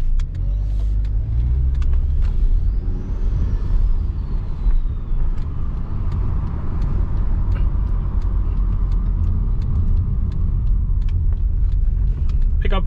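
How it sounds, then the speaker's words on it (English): A turbocharged 2010 Honda Accord accelerates with a loud, steady engine rumble heard from inside the car, a faint rising turbo whistle sweeping up over the first few seconds. "I love the turbo sound."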